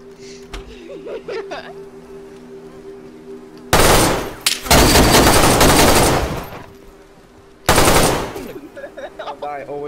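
Gunfire in DayZ 1.15 on PS4, two loud bursts of rapid automatic shots at close range, the first running several seconds and the second shorter, over a quiet ambient bed with faint buzzing.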